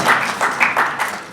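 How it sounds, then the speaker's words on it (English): An audience at a gathering of cultural leaders and politicians applauding, a short burst of dense clapping in rhythmic surges, close and fairly loud. "please give him a hand of applause"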